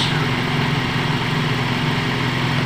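A Toyota Vios engine idling steadily at about 600 RPM, a continuous low, even hum with a faint mechanical buzz, heard close and without pauses throughout.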